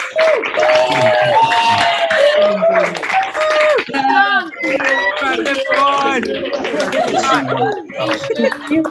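Graduation ceremony audience joining in remotely with microphones on, a loud overlapping jumble of cheering, whoops, laughter and chatter from many voices, with scattered clapping mixed in.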